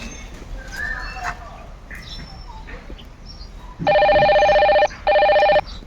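Electronic telephone ring, two loud bursts near the end separated by a short gap, over outdoor background noise and faint animal sounds.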